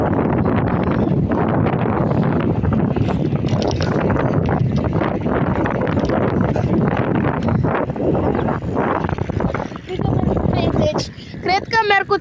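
Wind buffets the microphone while someone rides a bicycle, a loud, constant rumbling roar with rustling under a person speaking throughout.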